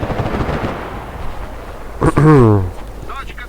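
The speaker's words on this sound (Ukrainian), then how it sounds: "А, він кинув цю гранату." A thrown grenade goes off in the shooter Enlisted, one sharp close blast after a stretch of rumbling battle noise and someone talking, followed by a fading rush and a brief crackle.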